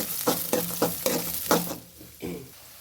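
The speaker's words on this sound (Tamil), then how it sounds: "நல்லெண்ணெய் ஊற்றுறோம், கடுகு போடுறோம், கடுகு பொரிஞ்சாச்சு, வெங்காயம் போடுறோம்" Onions frying in sesame oil with popped mustard seeds, stirred in a pan, giving loud close sizzling hisses in regular strokes that fade to a quieter crackle.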